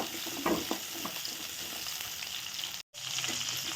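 Small onions fry in hot oil in a pan with a steady, dense sizzle, a few stirring scrapes near the start and a brief dropout near the end.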